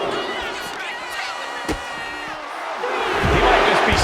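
A wrestling arena crowd in WWE 2K25 roars continuously, with a single sharp slam partway through and the cheering swelling louder toward the end.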